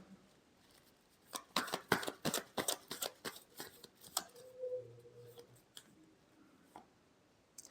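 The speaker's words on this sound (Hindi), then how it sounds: "last shuffle" Tarot cards are shuffled by hand in a quiet room, a quick series of crisp riffling flicks and taps, fairly faint and close, tapering into a few sparse clicks.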